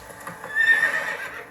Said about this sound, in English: I'm gonna go on this horse.